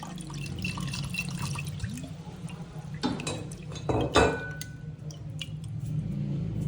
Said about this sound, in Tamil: இப்போ தண்ணி கொஞ்சம் ஊற்றிக்கலாம்